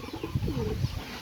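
Pakistani high flying male pigeon giving a brief soft coo, a low throaty call heard close and faint against quiet background.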